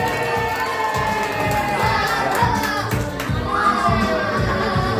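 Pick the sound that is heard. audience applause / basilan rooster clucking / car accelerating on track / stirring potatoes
audience applause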